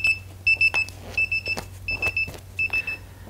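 A beeper box set inside a foam ball, used for visually impaired students, emits a series of short, shrill electronic beeps in quick pairs and bursts, repeating at regular intervals close by.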